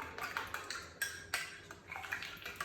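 A utensil clinks and scrapes around a bowl of tomato sauce in quick, irregular light taps, close by and fairly quiet, with no talking.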